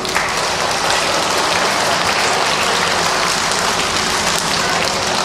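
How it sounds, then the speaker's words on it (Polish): Loud, dense applause for the teachers at a kindergarten celebration in Rzepiennik Strzyżewski, Poland, a thick continuous wash of clapping close by with no break. "I teraz przywitajmy nasze panie kochane brawami."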